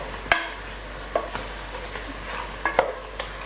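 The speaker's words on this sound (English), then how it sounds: "gonna add the flour to the mix and mix it correctly" A spoon stirs flour into a pot of beef bourguignon with red wine, giving a few scattered scraping knocks and soft clinks over a faint simmering background, close and without talk.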